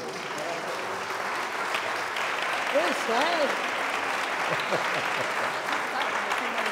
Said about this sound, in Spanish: Ha pedido un aplauso.